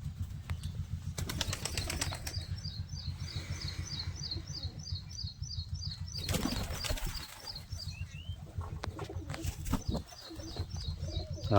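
Newly bought pigeons shuffle about, with bursts of wing flapping and soft, repeated cooing and chirps running throughout, close and fairly quiet, with no talk.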